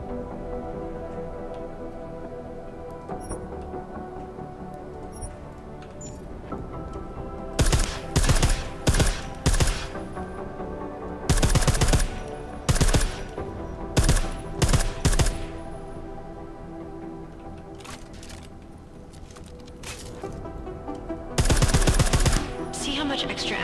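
Suppressed gunfire in Deus Ex: Mankind Divided, with several bursts of rapid muffled shots clustered in short groups over a steady game soundscape, while a voice talks.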